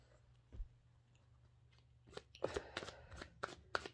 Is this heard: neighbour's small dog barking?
no